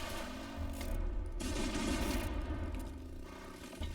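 Shotgun gunfire in the video game Laika: Aged Through Blood: a dense, loud run of overlapping blasts and booming reports that fills the whole stretch with little pause.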